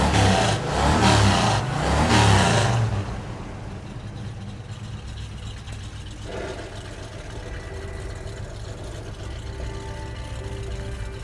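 A 1977 Chevrolet Camaro Z28 with a built 350 cubic inch Chevy small block and dual exhaust revs loudly in a few heavy bursts over the first three seconds, then settles into a steady rumbling idle.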